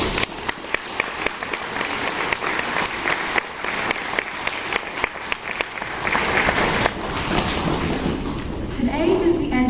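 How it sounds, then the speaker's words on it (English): Families and students clap at a sixth-grade promotion ceremony at Gilmour Academy. The applause is steady and sustained across the whole stretch, with crisp individual claps near the start and a voice faintly audible over it toward the end. "All students, please join me in a round of applause for our wonderful families."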